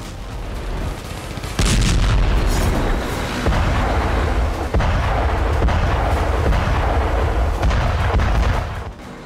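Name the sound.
Israeli Merkava Mark 4 tank firing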